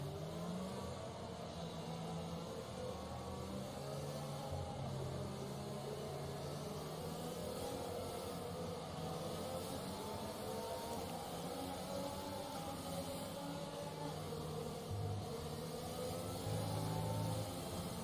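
Continuous engine drone of Formula 1 cars revving and accelerating in the F1 2020 video game, a steady whirring roar with shifting pitch throughout, no talking.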